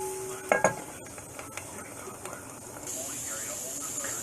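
Vegetables and big chunks of onion cooking in a pan, a soft low sizzle with a few utensil scrapes and clinks early on, then a steadier hiss toward the end.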